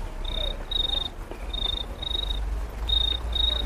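A beatboxer imitates a cricket chirping with high, clean trilled pulses in pairs, evenly spaced over a low background hum, with no talking.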